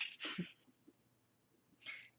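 A single short, sharp sneeze from what seems to be a small pet, quick and fairly close, with a second faint burst shortly after and quiet room tone between them.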